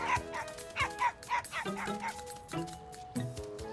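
Cartoon puppy yipping and whimpering in a run of short, high, squeaky barks and whines at a steady rhythm, with faint background music and no talk.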